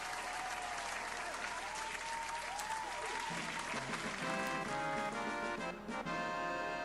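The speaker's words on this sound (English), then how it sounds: "round of applause to these guys" A crowd's applause makes a dense, even patter of many clapping hands that holds steady for several seconds, with a faint background murmur.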